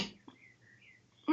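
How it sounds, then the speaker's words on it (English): A person lets out a sudden, close sneeze indoors, a short sharp burst followed by a faint trailing breath and a quiet pause. "I'm going to sneeze."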